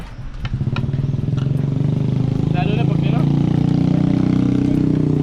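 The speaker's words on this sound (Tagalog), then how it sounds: "May tumaan na motor." A motorcycle engine rumbles steadily close by, growing louder and holding, while a person talks over it.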